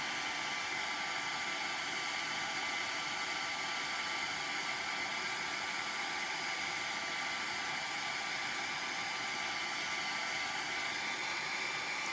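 A heat embossing tool blows hot air in a steady, even, close-up whoosh that runs unbroken for the whole stretch, with no talking over it.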